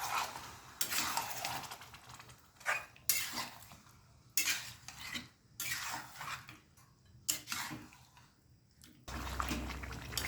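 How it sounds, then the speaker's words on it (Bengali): Chicken with yogurt in a pan on high flame is stirred with a utensil, giving repeated close scraping and clinking strokes against the pan at an uneven rhythm, with a brief low thud near the end. "টক দইটা দেওয়ার পর এবার গ্যাসটাকে হাই ফ্লেমে রেখে 2 থেকে 3 মিনিট নাড়াচাড়া করব।"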